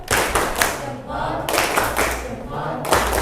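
A group of teachers and students performs a rhythmic 'tepuk salut' clap routine after a class presentation, sharp bursts of clapping with brief pauses between the sets.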